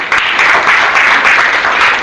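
A workshop audience claps for a volunteer teacher: dense, loud, continuous applause from a full room, lasting about two seconds with no speech over it.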